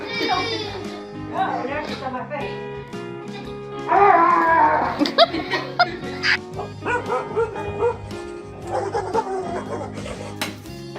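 Several dogs bark in irregular bursts, close and loud, mixed with yips and people talking and calling out over them.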